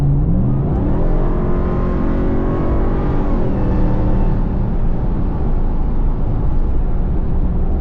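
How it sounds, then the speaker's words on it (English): A supercharged Ram TRX engine with an aFe Magnum Flow air filter pulls hard under throttle, its loud, steady roar topped by a rising supercharger whine, close and continuous. "That whine is more pronounced from the supercharger."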